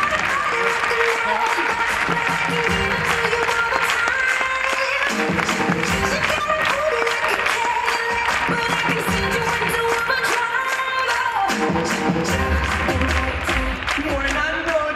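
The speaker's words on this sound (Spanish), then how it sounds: "¡Fuerte aplauso!" An audience at a comedy monologue festival during the San Nicasio fiestas in Leganés, 2021, applauds a comedian, with loud, dense clapping and crowd cheering that carries on through the whole stretch. Music plays under the clapping.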